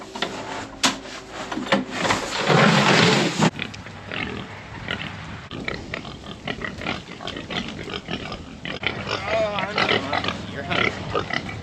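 Farm pigs grunt and snuffle close by in a burst of busy rooting noise, then continue with scattered softer grunts and shuffling amid background activity.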